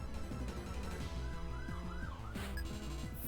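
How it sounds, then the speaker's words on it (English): Wailing sirens sweep up and down continuously, loud and fairly close, with a low engine rumble underneath and no voices, heard in the background while playing Pokémon Black 2. "I heard sirens in the background."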